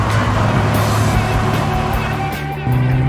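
Original BMW M3 saloon driving on a country road, a steady loud engine drone with a brief dip near the end before the revs pick up again.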